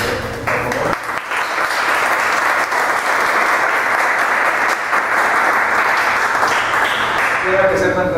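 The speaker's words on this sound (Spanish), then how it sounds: "Un aplauso también para Germán Martínez Aceves." Sustained, full audience applause at an in-person event on Sor Juana Inés de la Cruz, a loud, continuous wash of clapping for several seconds, with voices briefly audible near the end.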